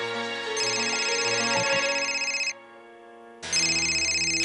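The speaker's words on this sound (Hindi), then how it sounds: "सिंधिया जी का फोन है।" An electronic telephone ringtone trills in two bursts separated by a short pause, clear and fairly close, with no talking.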